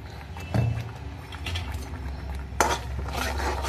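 Ground masala paste going into hot oil in a pan for egg curry, with sharp metal spoon and pan clatters, a loud scrape, then a faint sizzle and stirring underneath.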